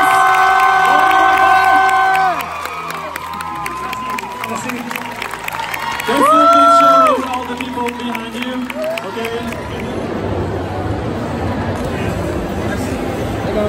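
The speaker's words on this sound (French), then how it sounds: "maintenant on fait une salve d'applaudissements s'il vous plaît" A crowd cheers and applauds at the Paris Manga convention, a broad wash of shouts and clapping in a large hall, joined partway by melodic electronic tones before the din settles into steady crowd noise and babble.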